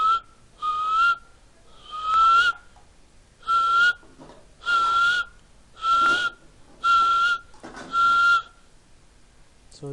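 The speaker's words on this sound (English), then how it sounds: "Now adding the audio sample of whistle for the 8 second." A person whistles a single steady note eight times in short, evenly spaced bursts, close and clear against a quiet background.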